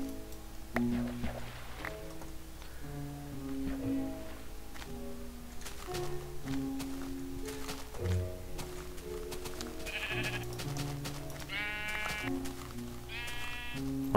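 Sheep in the Minecraft video game bleat repeatedly, short wavering baa calls spaced a few seconds apart near the end, over a steady game music background with no talk.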